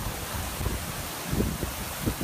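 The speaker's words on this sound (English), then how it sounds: "Whoa, it's windy." Strong Typhoon Hato wind buffets a microphone at the Star Ferry Pier in Hong Kong, a loud broadband roar with low rumbling gusts swelling and fading over a couple of seconds, no voices.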